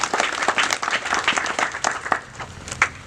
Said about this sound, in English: Can you clap for the team?